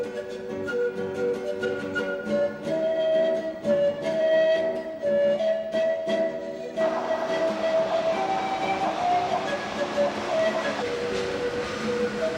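A Montreal metro train on the green line rumbles along the tracks with a whining motor tone, the sound swelling louder and rougher partway through as it picks up speed.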